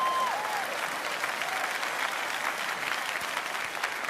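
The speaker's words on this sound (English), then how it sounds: "That's a good clapping point right there." A congregation applauds during a sermon, a steady full wash of clapping from a large crowd heard alone at an even, moderately loud level, with a brief whistle-like tone near the start.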